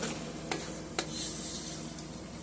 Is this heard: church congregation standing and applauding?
no